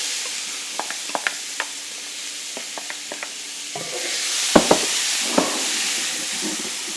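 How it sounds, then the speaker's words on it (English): Steady sizzling and hissing of onion frying in a hot pan for vegetarian gumbo, with scattered clicks and scrapes of stirring, louder and busier toward the end. "It's going to be a lot of sizzle."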